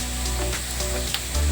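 Onions frying in a pan with salt, a dense continuous sizzle heard up close and alone, steady throughout with a slight swell at the end.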